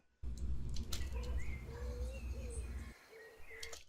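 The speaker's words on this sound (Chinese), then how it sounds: "这是森林的声音" Forest ambience with several bird chirps and calls scattered over a low, steady rumble of wind and background noise. The rumble cuts off near the end, leaving the birds fainter and more alone.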